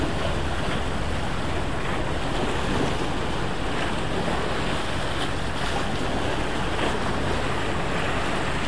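Sea waves wash and surge continuously beside rock blocks on the shore, a loud, steady roar with wind buffeting the microphone and no speech.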